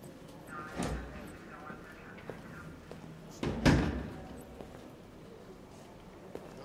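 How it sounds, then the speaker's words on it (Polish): In the video game Detroit: Become Human, a door shuts with two dull, heavy thumps a few seconds apart over a quiet background. "Zamknij za sobą drzwi."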